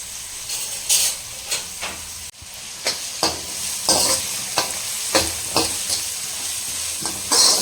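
Chopped onions frying in a pan for egg thokku, a close bubbling sizzle punctuated by rhythmic spatula scrapes and knocks roughly every half second, with one brief thump midway.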